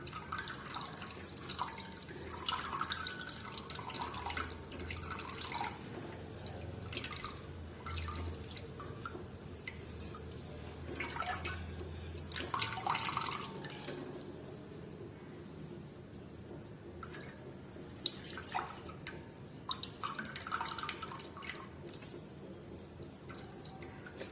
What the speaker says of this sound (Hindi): निचोड़ निचोड़ के इसके पानी को निकाल लेंगे।